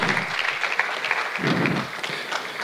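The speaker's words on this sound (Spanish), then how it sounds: "Den un fuerte aplauso, Señor" A church congregation bursts into brief applause at a worship service, a dense crackle of clapping with a rising murmur of voices partway through.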